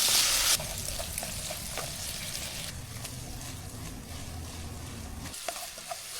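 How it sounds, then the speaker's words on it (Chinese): Wild mushrooms stir-fry in plenty of hot oil over high heat in a wok with garlic and chili, a continuous close sizzle broken by scraping stirs and light clinks of the spatula. "油多火大，就是炒啊"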